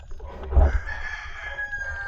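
A rooster crows once at night, fairly close, its call rising and then trailing off over a low rumble of outdoor background noise in the Philippines.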